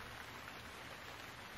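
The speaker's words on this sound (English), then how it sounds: "Is it raining? Yeah, it's supposed to rain all day." Steady rain falls as a dense, even hiss of droplets with no breaks or talk.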